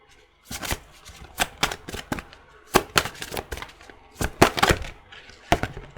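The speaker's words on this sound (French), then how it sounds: "on va prendre quelques petites cartes" Tarot cards handled and shuffled for a reading, giving a string of crisp riffling bursts and soft slaps in an irregular rhythm, close and fairly loud, with no talking over them.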